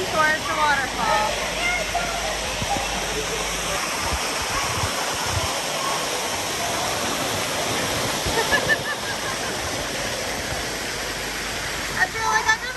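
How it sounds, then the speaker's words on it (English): A waterfall at Blizzard Beach water park roars steadily as a dense, continuous rush of falling water, with voices and footsteps mixed in over it. "Heading towards the waterfall."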